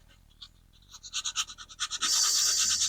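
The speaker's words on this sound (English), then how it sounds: "I'm going to sand the finish off." A furniture finish being sanded off around a scratch or gouge, heard as a close run of quick, rhythmic scrubbing strokes that speed up into a steady, continuous rasp at the end.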